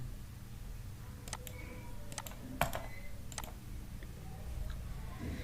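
Keys clacking on a computer keyboard as a short command is typed in AutoCAD software, a few quick separate clicks and bursts of keystrokes over a low steady room hum, fairly close and moderately quiet.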